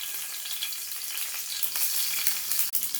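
Mustard seeds and green chilies sizzle steadily in hot oil in a pan, a dense crackling hiss that holds throughout with a brief sharp pop near the end.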